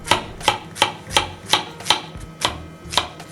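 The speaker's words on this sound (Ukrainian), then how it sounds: "Я взяв кабачок, гриби шампіньйони і болгарський перець. Все це нарізаємо." A knife chops zucchini, champignon mushrooms and bell pepper on a board for grilling, with sharp close cuts falling in a steady rhythm of about three per second.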